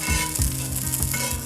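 Mushrooms and Brussels sprouts fry in a pan with a steady, close sizzle, marked by a few soft stirring bumps.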